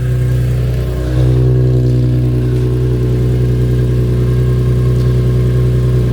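A drift project car's engine runs loud and steady at held revs while both rear wheels spin on a freshly fitted differential, a constant droning hum that rises slightly after the first second and carries on without talk.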